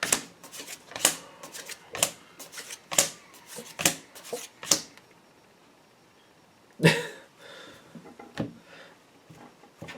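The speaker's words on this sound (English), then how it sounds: "Just in case you can hear my dog, that's what's going on with him." A dog's scuffling, quick yips and pawing sounds come in bursts, pause briefly, then return with a few more scattered taps and yelps.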